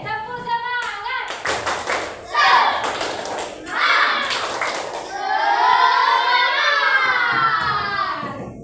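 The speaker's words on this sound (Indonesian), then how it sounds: "Sekali lagi, tepuk semangat." A class repeats the tepuk semangat spirit clap, crisp patterned hand claps in quick groups interleaved with loud unison children's chanting, close and energetic, finishing on a long drawn-out shout.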